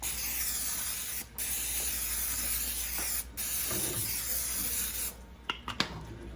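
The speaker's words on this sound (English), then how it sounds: "I'm gonna heat my pan up, and I'm gonna go ahead and spray it" Nonstick cooking spray hisses steadily onto a pan being heated for carne asada fries, a continuous close spray broken by two brief pauses, then a few short bursts and clicks at the end.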